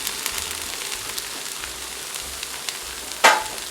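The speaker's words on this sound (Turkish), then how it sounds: "Şimdi öbür tarafının da güzelce kızarmasını istiyorum." Steady crackling sizzle of potatoes frying in a pan, continuous and close, with one louder splatter near the end; no talking.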